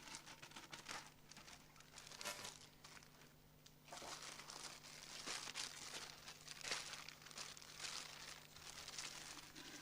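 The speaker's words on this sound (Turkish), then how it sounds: "14 konutun hak sahiplerini belirtmek üzere kura poşetini boşaltıyorum." Paper draw slips crinkling and rustling as they are tipped out of a bag at a TOKİ housing lottery in Sivrice, a steady run of crisp papery crackles with brief pauses, fairly close, with no talking.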